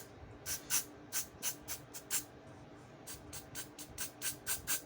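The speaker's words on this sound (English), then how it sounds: "Spray a little inside, and then just wipe it down." A series of short aerosol cleaner spray bursts into a First Strike FSC less-lethal launcher barrel, about a dozen quick hisses in uneven rhythm, close and fairly quiet, with no talking.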